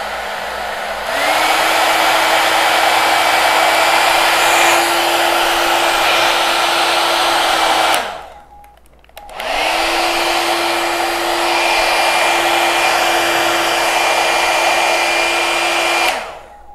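A new hot air hair brush blowing steadily, loud and close with a whirring motor tone, switched off briefly midway and then run again at another speed.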